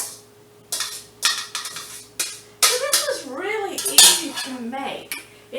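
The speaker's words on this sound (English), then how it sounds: "So I'm going to put this in my pan. Back in this pan." Baked lemon herb chicken leg quarters go back into a metal pan, making a series of sharp clinks and scrapes of cookware spaced irregularly between bursts of nearby talking.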